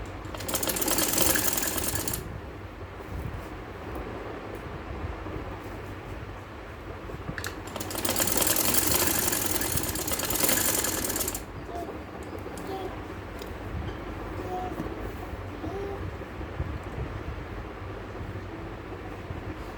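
A sewing machine stitches lace onto a kameez at home, its fast mechanical whirring and rattling coming in two loud bursts of a few seconds each, with a quieter room background in between.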